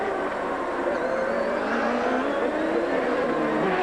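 CART Champ Car race cars scream around the 2002 Long Beach Grand Prix street circuit, a sustained loud, high-pitched engine howl at racing speed that stays steady throughout.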